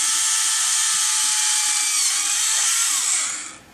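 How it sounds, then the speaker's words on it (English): A small Dremel-type rotary drill fitted with a collet bores into a thin plastic card, a steady high whine held close and loud for about three seconds before spinning down. "It's the perfect speed for drilling a hole in plastic."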